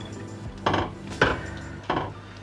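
A spoon stirs blended chicken curry in a cooking pot, three separate scraping, clunking strokes close by, with short pauses between them and no talking.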